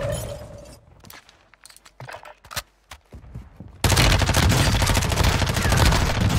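Shotgun fire in the video game Warzone: scattered sharp shots and impacts, then a sudden loud, dense, sustained barrage of gunfire close by.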